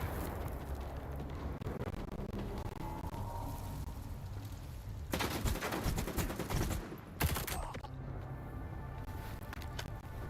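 Distant bursts of automatic gunfire in S.T.A.L.K.E.R. 2, a steady crackle of shots through the game's ambience, with two louder sharp volleys near the end.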